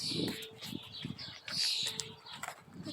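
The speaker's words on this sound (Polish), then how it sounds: "ptaszki śpiewają" Birds sing in a forest, with faint, high chirps and short calls coming in scattered bursts amid quiet outdoor rustling and a soft voice.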